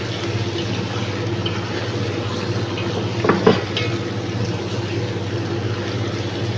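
Food cooking in a pot is stirred, with a brief cluster of metallic scrapes and clinks midway over a steady low simmering hum.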